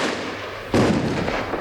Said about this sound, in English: There is a grenade.